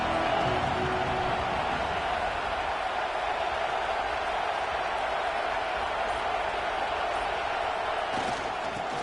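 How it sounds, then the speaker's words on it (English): A football stadium crowd keeps up a broad, steady roar of cheering throughout, dense and unbroken, with no clear individual voices. "This crowd ready to make its presence known."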